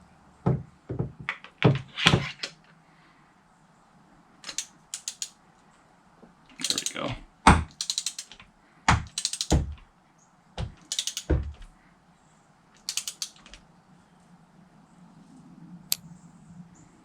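Ratcheting wrench working spark plugs on a personal watercraft engine, a series of sharp clicking and clunking bursts, close up, in irregular groups with pauses between them, over a low steady background hum.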